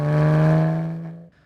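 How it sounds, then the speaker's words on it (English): A single car drives past from left to right, its engine tone sliding downward in pitch as it passes close, then quickly fading away. "A car driving from left to right."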